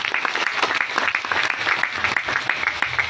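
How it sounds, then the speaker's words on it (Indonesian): Audience applause at an Islamic boarding school gathering, a steady dense patter of many hands clapping for the full few seconds, fairly loud and even with no pause. "Kita berikan tepuk tangan kepada Ustaz kita."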